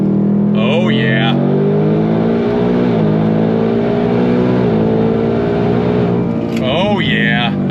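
A Ford Mustang Dark Horse with Hennessey H850 upgrades accelerates hard in second gear, its engine loud and close with a rising roar that holds steady and climbs through the revs.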